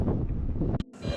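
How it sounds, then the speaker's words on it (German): A strong headwind buffets a microphone on a cycling tour in Scotland, a loud continuous roaring rumble that drops out briefly near the end before gusting back. "Der Wind bläst weiterhin fast genauso stark von vorne."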